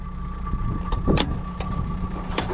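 A Yamaha DT 75 motorcycle engine, started after sitting unused for a long time, runs with a steady close-up hum and a few brief sharper bursts.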